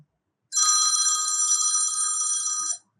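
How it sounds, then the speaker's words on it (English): A classic iPhone ringtone plays on an iPhone 16 as a bright, bell-like ringing trill that sounds loud and continuous for a little over two seconds, then stops cleanly. "select any classic ringtone which you want to set as the ringtone of your iPhone"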